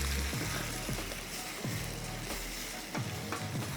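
Mushrooms frying in a pan give a steady, close sizzle, broken by a few soft scrapes of stirring against the pan, with no talking.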